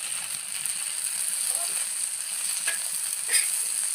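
Cooked chicken pieces fry in coconut oil in a pan for egg chicken fried rice, a steady high sizzle with occasional soft scrapes and taps from stirring.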